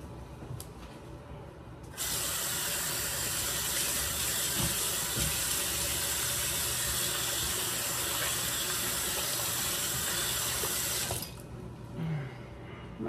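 Shower water sprays in a loud, steady hiss for about nine seconds while someone washes long curly hair, then cuts off abruptly.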